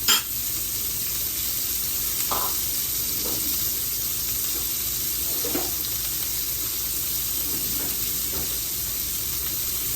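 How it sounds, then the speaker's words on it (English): Onions sauteing in a hot pan give a steady, close sizzle that runs the whole time, with a few soft stirring scrapes and clinks now and then. "I'm gonna saute my onions"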